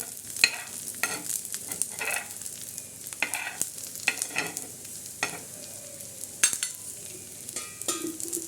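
Green chillies fry in a little oil in a pan for a bitter gourd masala, a steady sizzle broken by repeated stirring scrapes and clacks, close and fairly loud, with no talking.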